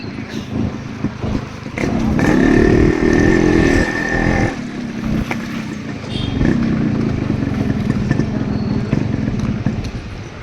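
Close two-stroke engine of a Yamaha RX100 motorcycle ridden without brakes, rising in strong revving surges, dropping briefly, then building again with a buzzy, throttling drone.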